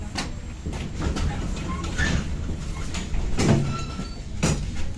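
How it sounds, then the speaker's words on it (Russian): A sequence of mechanical clunks and sliding thuds as tram doors shut on a St. Petersburg circular route A tram, over a low rumbling hum of the vehicle. "двери закрываются."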